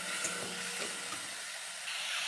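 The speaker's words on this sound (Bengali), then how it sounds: "হলুদের গুঁড়ো, লঙ্কার গুঁড়ো, জিরের গুঁড়ো, মশলাটা কষানো হচ্ছে।" Turmeric, chilli and cumin powders sizzle steadily in a hot pan, giving a close, continuous hiss with no talking.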